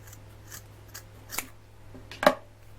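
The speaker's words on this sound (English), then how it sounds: "Now I'm going to cut this part off, and this is going to leave us with a tassel." Scissors snip through twine to trim a tassel for a Dollar Tree Valentine ornament, giving several quiet, close, crisp cuts spaced apart, with the last snip the loudest, over a low steady hum.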